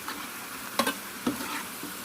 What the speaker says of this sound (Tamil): இதே மாதிரி எல்லா வெங்காயத்தையும் நம்ம ஃப்ரை பண்ணி எடுத்துக்கலாம் ஃப்ரெண்ட்ஸ்